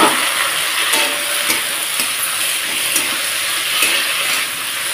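Chopped vegetables stirred in a hot pan for a puti fish curry, a loud continuous hissing sizzle with periodic scraping stir strokes, close up and without any voices.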